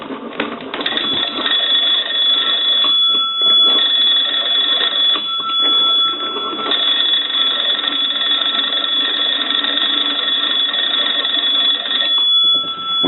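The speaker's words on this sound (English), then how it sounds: "we're going to go ahead and crank the telephone and ring it" A Swedish American wooden wall telephone rings loudly and continuously, its bells clattering steadily across the whole stretch with only brief dips, no voices present.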